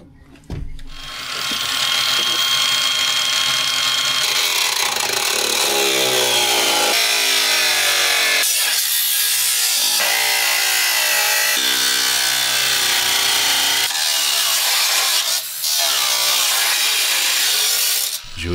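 Loud, continuous power-tool cutting through rusty steel body panels of a Chevrolet Tahoe 5.3 near the rocker area, a harsh grinding whine that shifts in pitch as the blade bites, close up with short pauses.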